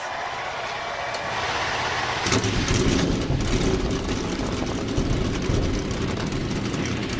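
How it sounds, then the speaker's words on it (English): NASCAR race car engines at Phoenix fire up together, a dense roar that swells sharply a couple of seconds in and holds as a loud, continuous rumble of many engines over the track. "Drivers, start your engines!"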